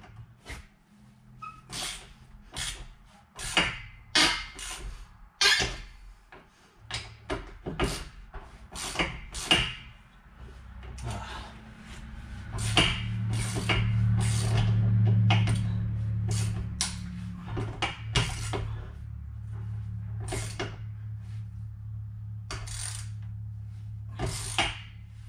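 Metallic clanks and ratcheting clicks ring out in quick bursts as a socket wrench works on seat bolts inside a school bus being converted, followed by a steadier mechanical rumble, with no talking.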